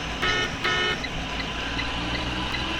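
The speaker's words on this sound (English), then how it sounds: "when you honk the horn" School bus horn in an HDX bus pressed on the steering wheel, two short honks close by over a steady interior rumble.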